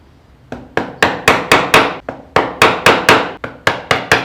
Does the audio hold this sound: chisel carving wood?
yes